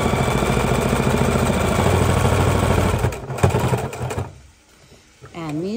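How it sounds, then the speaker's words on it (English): Electric sewing machine stitching a quarter-inch seam around seat belt cover fabric, a steady close whir for about three seconds that stops, followed by quieter handling and a brief voice. "we are simply going to sew a scant quarter inch or maybe an eighth inch from the edge of the fabric"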